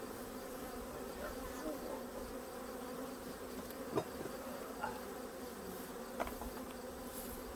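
Honey bees from a busy late-summer hive, a faint, continuous buzzing drone heard close by, with a few brief louder passes of individual bees.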